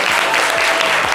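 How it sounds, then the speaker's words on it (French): Audience at a French live show applauding loudly, a dense continuous wash of clapping filling the whole short moment. "on l'applaudit bien fort, s'il vous plaît"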